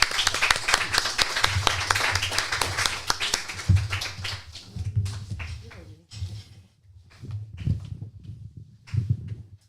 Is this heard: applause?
yes